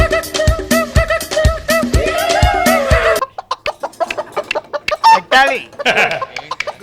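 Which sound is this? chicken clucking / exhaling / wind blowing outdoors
chicken clucking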